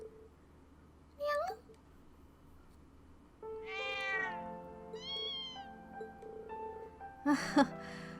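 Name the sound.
mother cat meowing in video game Trails of Cold Steel 2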